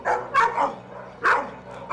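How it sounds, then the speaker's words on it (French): Dogs bark at a castle in a fairy-tale setting: two distinct bursts of barking, close and fairly loud, with a short gap between them. "les chiens se mirent à aboyer sans aucune raison"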